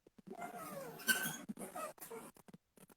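An indoor cat yowls in drawn-out, wavering cries broken by short pauses, near but fairly soft, amid faint background noise.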